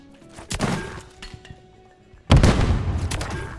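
Two heavy, booming gunshot bursts in a Call of Duty Search and Destroy match, one near the start and a louder one later, each with a ringing tail and sparse clatter in between.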